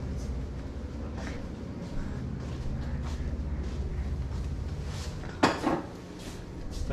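Dishes, mugs and glasses clatter and clink as they are handled in a hotel kitchen, a steady jumble of crockery and cutlery knocks with one sharper, louder clatter near the end.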